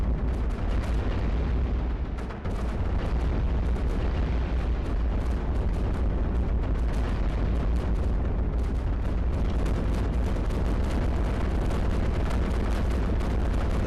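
Cannons and guns firing nonstop in the iBomber Defense strategy game, a dense unbroken barrage of booms and rapid gunfire blasts layered into a loud, continuous battle roar.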